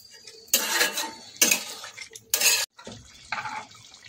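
Clattering of a cooking pot as a little water and slit green chillies go in and a lid is set on top, heard as several sharp metallic bursts of clanking with brief pauses between.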